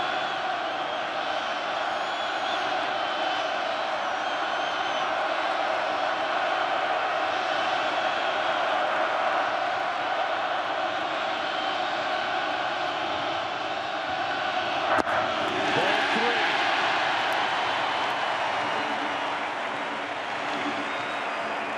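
A large baseball crowd at a 2016 World Series game between the Indians and Cubs keeps up a steady, loud roar that swells briefly partway through, with commentary voices faintly mixed in.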